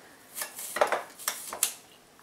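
Cutlery scraping and tapping on a plate while cutting into a chocolate dessert with a caramel centre, a handful of close, quick metallic clicks and scrapes in an otherwise quiet room.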